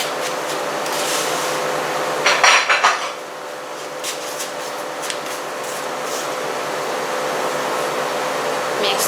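A utensil clinks and scrapes against a bowl while binangkal batter is mixed with warm milk. A short cluster of clatters is followed by softer scraping over a steady hum in the background.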